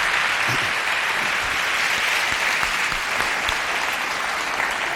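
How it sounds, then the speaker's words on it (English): Sustained, steady applause from a lecture audience for two panel speakers at the 2nd Thabo Mbeki Africa Day Lecture panel discussion in 2011, a dense wash of clapping that holds evenly at full strength throughout with no break. "Let's give both of them another rousing round of applause."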